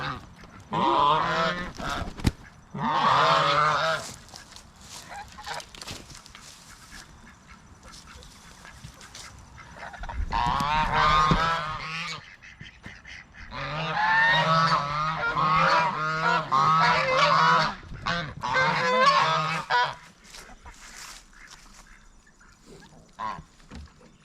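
Geese honk loudly in raucous bursts, several birds calling together in repeated noisy clusters with brief quiet gaps between.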